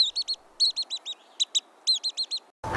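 In a quiet redwood forest, a pygmy nuthatch chatters in quick bursts of high, piping notes, several rapid series of chirps repeating closely, ending with an abrupt low thump.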